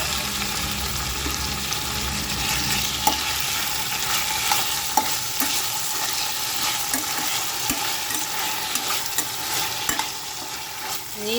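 Ivy gourd frying in a pan with curry leaves and dried red chillies, a continuous sizzle broken by repeated scraping and clinks of a stirring spoon, close and unaccompanied by speech.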